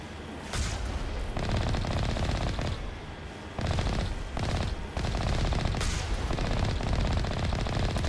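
Rapid automatic gunfire from the Mass Effect video game at a research facility base, loud sustained bursts broken by short pauses, with dense crackling shots throughout.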